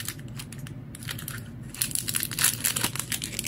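Plastic earphone packaging for budget SoundPeats Air3 Deluxe earbuds crinkles and crunches as it is unwrapped by hand, with short crackling bursts that get louder and denser toward the end. No one speaks.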